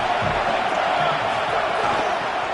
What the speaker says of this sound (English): this home crowd getting involved right from the start